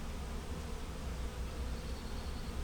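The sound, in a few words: honeybees buzzing on a hive frame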